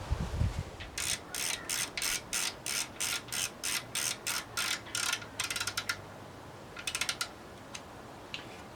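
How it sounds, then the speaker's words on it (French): A torque wrench ratchets in quick, regular clicks, about a dozen in a row and then a faster burst, as it tightens the bolts of a carbon stem on a bicycle. The sound is close and crisp. "On va prendre la clé dynamométrique et la régler sur 5."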